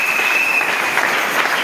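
A church congregation claps and cheers for the Lord at a New Year's dawn service, a dense, steady burst of applause with a faint tonal whistle or voice cutting through early on.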